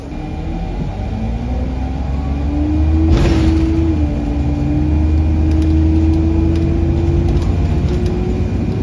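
Steady low engine drone of a bus riding toward Kirkcaldy bus station in Fife on a rainy day, continuous and fairly loud with a brief surge around the middle and faint rattles above.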